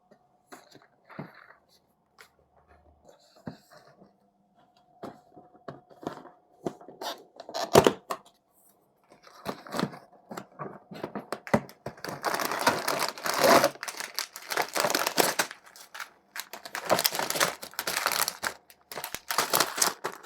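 Packaging of a Mattel Brick Shop Honda Civic kit being opened: scattered crinkles and taps at first, then sustained loud crackling and rustling of plastic bags and cardboard close to the mic, with no talk.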